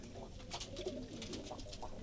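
Pigeons coo softly outdoors in the summer heat, a few low murmuring calls rising over a steady background hum, with no voices.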